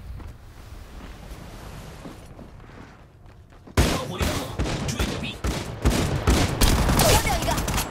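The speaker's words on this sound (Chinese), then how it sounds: "锁定目标，发射导弹。" Missile barrage launched in the Apex Legends Mobile battle royale game: after quieter gunfire, a sudden loud burst of whooshing blasts and explosions keeps rolling in dense, overlapping impacts.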